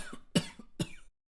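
Three short, sharp coughs, close and fairly quiet, come in an uneven burst and then stop, leaving silence.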